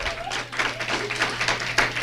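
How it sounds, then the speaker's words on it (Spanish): Church congregation breaks into applause, a dense, lively burst of many hands clapping together with a bit of crowd noise, holding strong for about two seconds. "un aplauso de eso al Señor fuerte"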